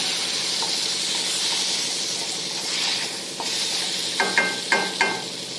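Steady hiss of a spoonful of water sizzling in hot masala in a kadhai, swelling slightly midway, followed by a few sharp metallic clinks near the end.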